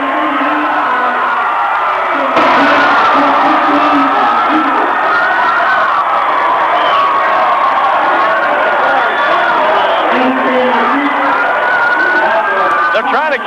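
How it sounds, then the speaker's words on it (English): Crowd at a 1997 Class C district championship basketball game won by the Norway Knights, a loud sustained roar of cheering and whooping from a packed gym, with an announcer talking over it throughout. "Listen to the crowd."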